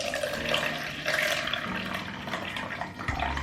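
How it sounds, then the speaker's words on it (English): Mushroom and seaweed stock strained into a pot, a continuous splashing pour of liquid with a gurgling, running-water texture, close and fairly loud, ending with a soft clunk. "now we're going to strain it and add it to the pot"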